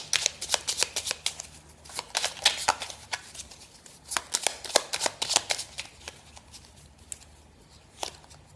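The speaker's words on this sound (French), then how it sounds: "Je vais vous prendre une carte finale avec le petit oracle de la forêt" Oracle cards being shuffled by hand for a tarot-style card draw, a long run of crisp, close riffling slaps in quick irregular bursts that thin out toward the end, with no talk.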